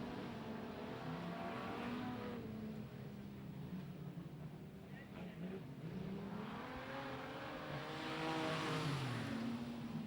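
Super Street race cars roar down the main straight at a speedway, engines rising and falling as they pass, a continuous loud drone with a swelling pass near the end.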